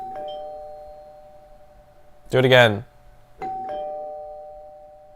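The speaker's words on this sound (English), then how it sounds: "Can you press the doorbell?" A doorbell chimes with a sustained two-tone ring, interrupted by a brief spoken phrase, then chimes again and lingers.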